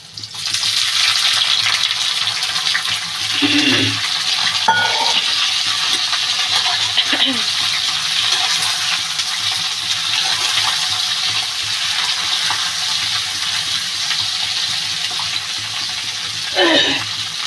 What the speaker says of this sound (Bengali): এবার বন্ধুরা কেটে রাখা বেগুনগুলো দিয়ে দেবো।